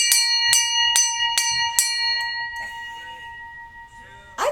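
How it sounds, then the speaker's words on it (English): A ship's bell rings five clear, close strikes in quick succession, each leaving a sustained metallic ring that fades out, followed by a quieter background. "The ship's bell."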